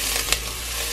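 Garlic and ginger fry in hot sesame oil with a steady, dense sizzle and one small crackling pop partway through the short burst.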